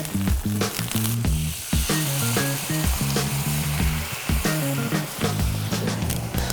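Whole garlic cloves and thyme sizzle and fry steadily in a hot pan, a loud crackling hiss with stirring sounds, close up and continuous.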